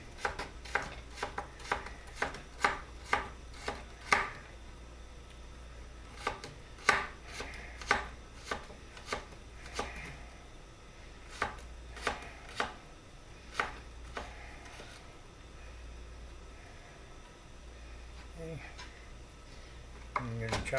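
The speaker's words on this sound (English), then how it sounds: "I'm going to chop these." A knife chops kitchen scraps for a pot pie on a board, with quick runs of crisp, regular knocks that pause briefly and resume, close and clear over a low background hum.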